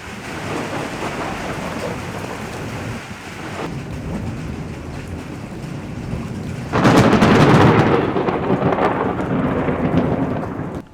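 Thunderstorm over Halong Bay with steady heavy rain hissing throughout, then a loud close thunderclap bursting in near the end and rolling off, no voices.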